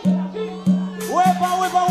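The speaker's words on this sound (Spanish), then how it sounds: "Esto suena así, escucha, mi cumbia, suena así." Live cumbia played onstage, with a steady bass pulse on each beat, bright accompanying chords and a rising melodic line, crowd noise faintly underneath and no talk over the music.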